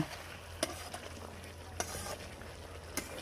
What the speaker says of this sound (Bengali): উপর নিচ করে দিয়ে মশলাগুলো যেন মাংসর মধ্যে ঢুকে যায়, আলুর মধ্যেও ঢুকে যায়।